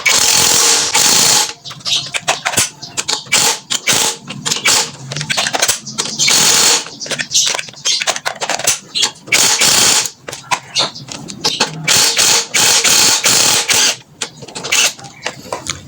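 A 14mm socket wrench loosening the front shock absorber lock bolt on a Suzuki Hayate scooter ratchets in rapid, loud clicking runs, broken by short pauses, close to the microphone.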